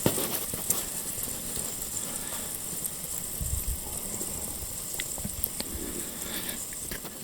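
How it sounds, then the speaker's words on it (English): Lake ice shifts in the waves, producing a soft, continuous crackling hiss with scattered faint clicks and a low watery wash. "That is the sound of the ice moving in the waves."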